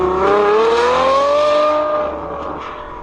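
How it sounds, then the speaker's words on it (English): A loud, high-pitched naturally aspirated V12 engine in a Ferrari F12 TDF with a Novitec exhaust accelerating, its tone climbing steadily as it revs up, then easing off and fading slightly at the end. "Awesome Ferrari F12 acceleration."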